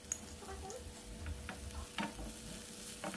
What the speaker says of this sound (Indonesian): Masukkan irisan cabai.